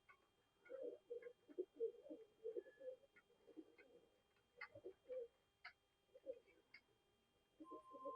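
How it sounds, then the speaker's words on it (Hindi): A large old pigeon coos in soft, low, repeated phrases, close by in a quiet setting. A few faint chirps and clicks come through between the coos. "बड़ा कबूतर है जी मेरा 15 नंबर"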